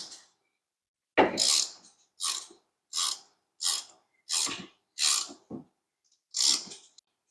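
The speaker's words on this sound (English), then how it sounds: "The last step is just tightening these bolts." A ratchet wrench tightens half-inch bolts on a squarebody truck frame brace, clicking in about seven separate short bursts, close and distinct with quiet gaps in between.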